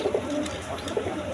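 Quality breed pigeons at a seller's loft cooing softly, a few low, murmuring coos close by in a quiet setting, without talk.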